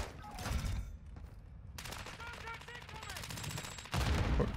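Rapid bursts of automatic gunfire in Call of Duty Warzone (Modern Warfare 2 era) crackle loudly and almost continuously, with a few short gaps between volleys and no one talking.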